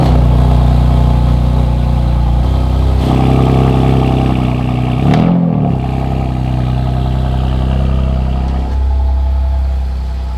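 A BMW M2 idles and rumbles steadily up close while being moved before dawn, its engine note holding loud and even with a brief swell in revs partway through.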